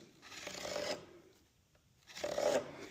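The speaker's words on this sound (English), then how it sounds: "Pull my knife down a couple of times." Two slow rasping strokes of a knife blade drawn along wood to score a layout line for a knee brace, each about a second long with a pause between, close and fairly quiet.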